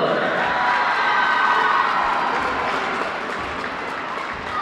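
A crowd roars and cheers at a girls high school basketball game against Canon-McMillan, a steady, loud wash of voices and clapping that eases off a little toward the end.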